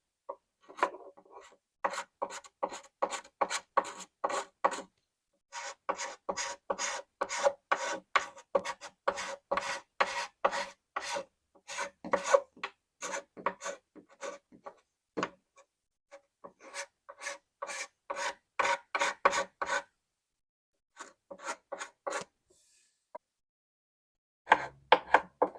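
Rhythmic rasping strokes of a hand scraper and sanding across a repaired wood crack come in quick repeated bursts, close and dry, with short pauses between sets of strokes.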